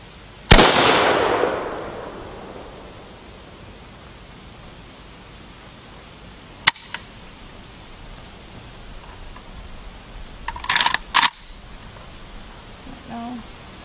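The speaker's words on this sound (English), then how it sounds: "That was definitely probably the first time I've actually really felt the recoil of a gun." A single sharp gunshot cracks out nearby and its noisy report trails off over about a second, followed by a few faint clicks and handling knocks of the gun.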